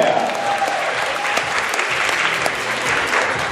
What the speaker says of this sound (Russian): Дорогие друзья, Наталья Кунгурцева, город Москва, аплодисменты!